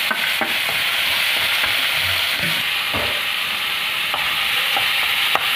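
Tomatoes and chili sizzle and crackle in a hot pot while being stirred for chicken sinigang, a steady close frying hiss broken by scraping stir sounds, with no talking.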